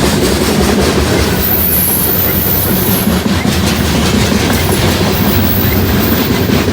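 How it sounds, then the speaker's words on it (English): A freight train with grain hopper cars rolls past close by, with a loud continuous rumble, rhythmic wheel clatter and a thin high squeal above it. "Did not know that that locomotive was even around. Like we got us a grainer here."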